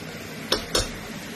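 Two quick metallic clinks from a spatula or spoon striking a pan as boiled jackfruit is mixed in, close and crisp over a quiet background.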